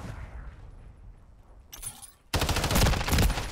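MTZ-556 rifle fire in Modern Warfare 3 bursts in as a loud, sustained string of rapid shots in the final second, preceded by quieter game ambience and a brief sharp sound.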